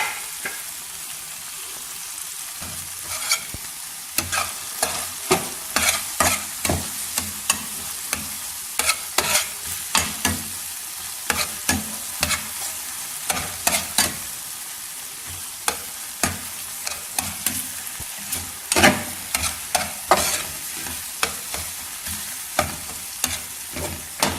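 Green chilies fry in an egg and tomato curry, steady soft sizzling with frequent sharp clicks and scrapes of a spoon stirring the pan, close and continuous with no talking.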